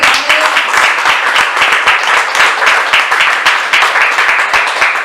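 A church congregation claps in a steady, rhythmic beat during a Sunday sermon, with many hands sounding together, loud and close for several seconds and no talk over it.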